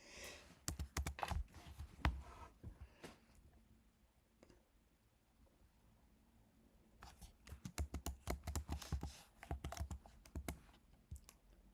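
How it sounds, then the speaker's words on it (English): Typing on a computer keyboard, with quick bursts of soft clicking keystrokes close by, separated by a quiet pause in the middle before a second, denser flurry of typing. "Let me type something."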